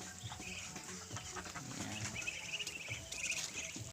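Chicks and other farm fowl on a rural farm chirp and peep in scattered bursts at moderate distance, with faint rustling and background animal noise, no talking.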